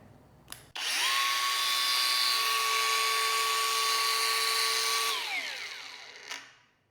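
A Dongcheng DCSM08-100 cordless grinder with an outer rotor motor starts with a click, winds up to a loud, steady high-pitched whine that holds for several seconds, then spins down and stops.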